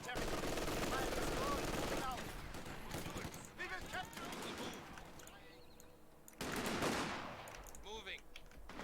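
Rifle and machine-gun fire in a World War II real-time strategy game, with dense, continuous rattling bursts and scattered shots across the battlefield, mixed with unit voice lines and game effects.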